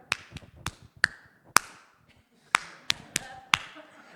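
A person demonstrates church clapping by tapping, with about ten sharp, isolated taps in an uneven, halting rhythm, close and dry with short gaps between them, imitating the clapping.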